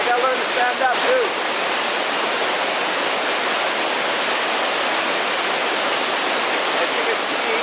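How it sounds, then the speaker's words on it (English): Waterfall in Johnston Canyon, Banff, crashing loudly in a steady, dense roar heard up close from a small cave cut into the rock, with a brief voice near the start. "The water is just crashing magnificently down here."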